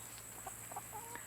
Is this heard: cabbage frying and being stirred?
no